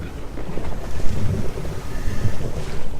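Gusty wind buffets the microphone on a 2004 Chaparral 260 SSi boat stopped on open water, with a low, uneven rumble and faint sloshing beneath.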